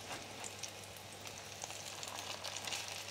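Salmon croquettes sizzle steadily in a frying pan as they are flipped, a continuous hissing crackle with small pops, fairly quiet and close, with no talking.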